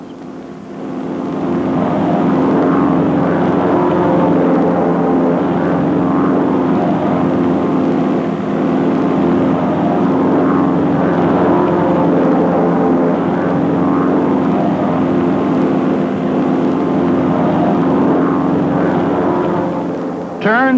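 North American Aviation T6 propeller planes flying in formation, a sustained droning engine hum with layered tones holding steady and loud for about twenty seconds, with a narrator talking over it.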